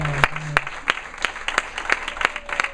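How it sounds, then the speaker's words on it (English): Applause for a newly married couple at a wedding: a small group claps in sharp, spaced, fairly regular hand claps that sound close, with faint talk briefly audible underneath. "let's give them another warm hand of applause"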